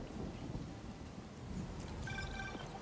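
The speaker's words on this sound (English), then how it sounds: "Oh, it's raining." Rain falls with rumbling thunder in the Spider-Man 2 video game, a steady, broad wash of low rumble and hiss running through the whole stretch, with a faint tonal game sound rising near the end.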